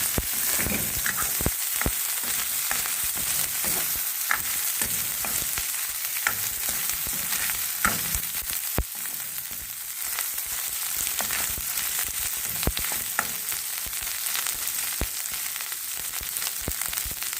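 Dried bombili fish tempering crackles and sizzles in a frying pan, with frequent spatula scrapes and clicks as it is stirred. The sound is continuous and close, with no voices.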